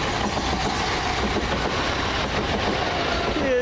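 A London Victoria to Brighton passenger train passes at Preston Park, a steady broadband rumble of rail noise filling the whole stretch with a faint wheel squeal rising near the end.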